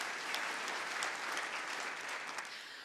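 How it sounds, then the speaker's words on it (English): A studio audience claps steadily for a panel guest in an even wash of applause that holds at a fairly soft, distant level throughout and tapers slightly at the end. "yes, you can clap for John too"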